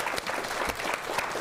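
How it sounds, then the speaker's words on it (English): Audience at a regular public meeting clapping for the commissioners, a brief dense round of applause from a crowd of standing people, steady and fairly close throughout. "could you give our commissioners a round of applause for that?"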